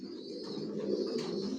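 Racer pigeons in a loft coo in a steady, overlapping murmur, close and moderately loud, with no talk over them.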